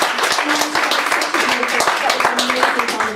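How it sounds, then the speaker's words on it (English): Audience applause at a radio station Christmas concert, dense clapping with some individual sharp claps, with people speaking over it and a faint musical tone running underneath. "Ladies, can we have another round of applause for the women?"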